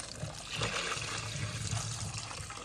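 Bone broth pours steadily through a strainer close by, a soft continuous splashing and trickling that runs without pause.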